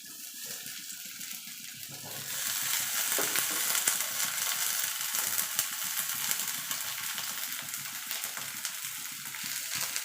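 Eggplant drops into hot fish oil and starts frying, a loud broad sizzle swelling up after a couple of seconds and holding steady with crackling bubbles, alone without talk.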